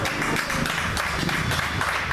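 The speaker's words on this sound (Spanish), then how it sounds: "Gloria, denle un aplauso, Señor." An audience at a Spanish-speaking gathering claps and applauds in a dense, continuous burst, fairly loud and filling the whole moment, with some voices and cheering mixed in.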